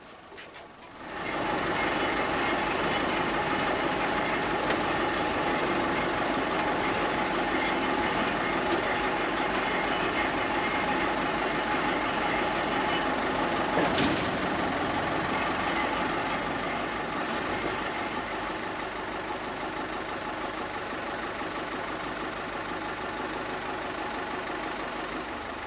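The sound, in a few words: Lima 34 Paymaster machine diesel engine running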